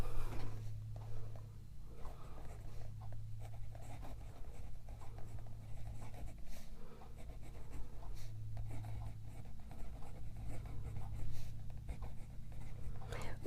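A Pilot Custom Kaede maple fountain pen with a smooth, soft nib writes in Pilot Kon-Peki ink, giving a continuous close, soft scratching and patter of strokes over a low steady hum.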